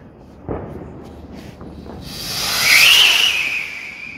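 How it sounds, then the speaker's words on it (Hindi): A whistling rocket firework lifts off at Diwali with a thump, then a rising hiss swells into a loud, steady high whistle that lingers as it flies away. "ये आवाज के बादशाह होते हैं। Whistling rocket."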